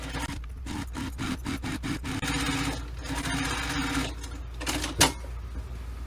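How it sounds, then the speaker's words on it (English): Sewing machine stitching a 3/8-inch seam on a business bag exterior, running in several short bursts with brief pauses, steady whirring hum close by and alone. "Sewing this with a 3/8 of an inch seam allowance."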